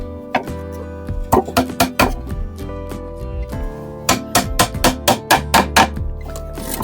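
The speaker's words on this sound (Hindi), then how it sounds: "इन छोटी फट्टी में हमने सिर्फ 1-1 कील ठोकनी है" Hammer blows driving nails into small wooden planks of a beehive top cover, a quick series of sharp, close knocks in bursts with short pauses, some ringing strikes, no talking.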